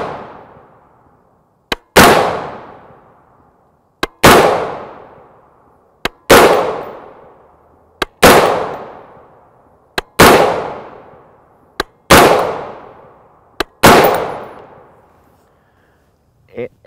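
Seven loud 5.56x45mm M855 rifle shots fired from a 7.5 inch barrel with a muzzle brake, evenly spaced about two seconds apart, each a sharp crack with a long ringing decay; no talking is heard.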